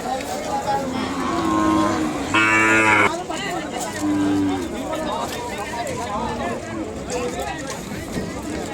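Cattle lowing at a weekly bull market in Kodada, Telangana, with several loud moos near and far over a steady babble of crowd noise and talk.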